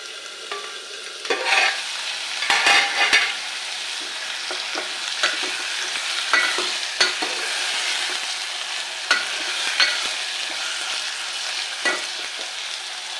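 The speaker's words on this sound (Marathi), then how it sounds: "थोडा वेळ झाकून वांगी परतून घ्यायची" Brinjal (eggplant) sautéed and stirred in a pan for a Marathi vegetable curry: a steady close sizzle of frying runs throughout, broken by repeated scraping stir strokes and clinks at irregular intervals, with no talking.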